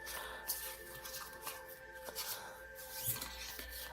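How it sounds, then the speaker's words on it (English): Soft papery shuffling and riffling of tarot cards, quiet and close, with a few brief sharper flicks. "I feel I need to shuffle a little more"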